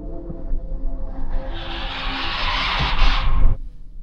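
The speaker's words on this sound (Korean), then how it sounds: "VAS라고 해서 밖으로 소리가 나게 되는 이런 소리 들리시나요?" A steady whooshing hum from the outside of a Renault Grand Koleos, its external acoustic vehicle alert sound heard through an open window, rising into a brighter hiss before cutting off sharply near the end.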